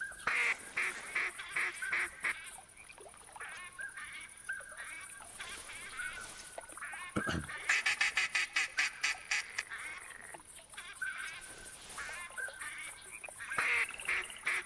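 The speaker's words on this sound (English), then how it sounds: "I hear pintails and mallards." Pintail and mallard ducks calling in the hunting video game theHunter Classic, a busy chorus of repeated quacks and whistles layered over a steady high-pitched hiss, with rapid bursts of calls throughout and no talking.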